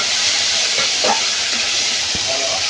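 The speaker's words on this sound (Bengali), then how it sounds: "আমি এই তেলে চিংড়ি মাছগুলো ভেজে নেব।" Prawns frying in hot oil in a wok, a steady broad hiss of sizzling that holds evenly throughout with a few faint spits and pops near the end, no talking.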